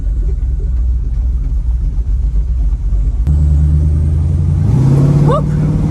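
A big block Trans Am engine with a Quadrajet carburetor rumbles loudly at idle, then revs up with a rising pitch near the end, close up and mixed with some talk.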